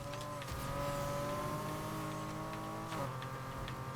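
A Honda Civic races in Need for Speed Heat, its engine droning at high steady revs with brief shifts in pitch, loud and continuous without talk.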